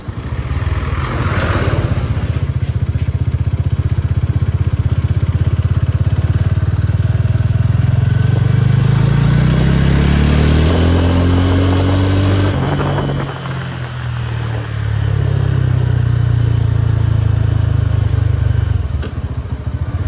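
2024 Loncin GP 165R sport motorcycle ridden over a bumpy road, a loud close engine drone with shifting revs and gear changes plus wind rush, easing briefly midway before pulling again.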